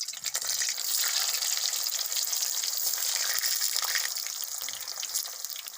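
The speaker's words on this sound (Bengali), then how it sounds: "এবার আলুটা ভেজে নেব" Potatoes fry in hot oil for a chicken biryani, giving a steady, dense close-up sizzle and bubbling hiss with no talking.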